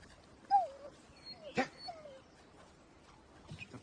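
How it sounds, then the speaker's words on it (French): A hunting dog whimpers and whines in several short, rising cries, with a sharp yelp in the middle, close by against a quiet background. "c'est un vrai chien de chasse, lui."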